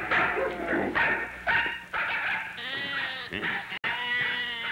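Repeated goat bleats, loud and close, wavering cries following one another with brief gaps, no talking.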